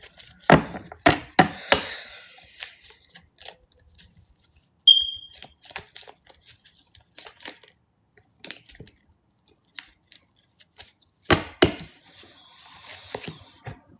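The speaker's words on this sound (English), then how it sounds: "Please do not mind my fire alarm." A malfunctioning fire alarm gives one short, high electronic chirp amid scattered clicks and tapping sounds in a quiet room.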